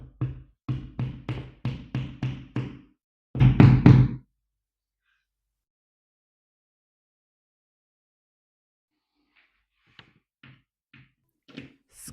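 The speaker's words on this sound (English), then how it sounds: "Use a hammer to gently tap in the wall plugs." A hammer taps wall plugs into a drilled wall, giving a rapid series of sharp knocks followed by a louder burst of strikes, then silence and a few faint scattered taps at the end.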